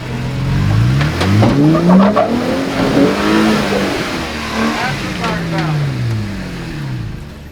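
A Jeep Wrangler's engine revs and strains as it climbs a rock obstacle on the Moab Rim Trail, its pitch rising and falling in repeated loud surges, with a voice speaking over the noise.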